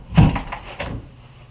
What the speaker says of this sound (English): The first thing you want to do is put your screen door in the open position.